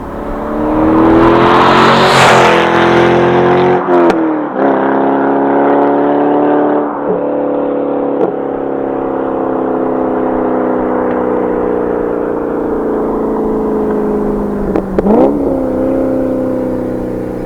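A 2000 Chevrolet Corvette V8 rumbles steadily at close range, rising in a strong rev early on and then holding a smooth driving drone with brief shifts in pitch.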